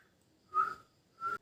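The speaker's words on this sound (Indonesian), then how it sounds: "Lalu bersiul." A patient whistles during a cranial nerve examination, giving two short, soft tonal whistles separated by a brief pause in an otherwise quiet room.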